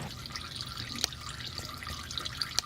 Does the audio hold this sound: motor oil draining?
yes